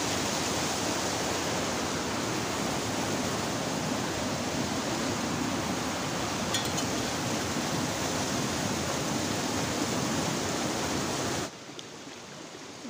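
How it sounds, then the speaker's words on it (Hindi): Steady, dense rush of water pouring through a mountain stream channel near a village, loud and continuous with no talk, cutting off abruptly near the end. "आज बड़ी मुद्दतों के बाद नाले में पानी उतरा है।"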